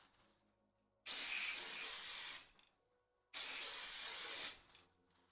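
Two long hissing bursts of aerosol hairspray sprayed onto hair during styling, each lasting about a second and a half with a quiet pause between, close and fairly loud.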